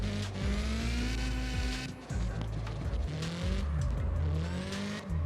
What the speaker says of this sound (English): really trying not to crash and keep it drifting nice